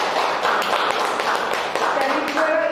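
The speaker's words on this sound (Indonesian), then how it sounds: "Kita beri tepuk tangan dulu." Applause at a school discussion session, steady clapping from a group with voices talking over it.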